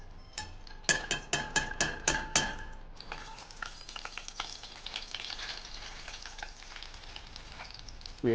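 Cumin seeds hitting hot oil in a pan, a quick run of sharp crackles and pops followed by a steady, fairly quiet sizzle close by.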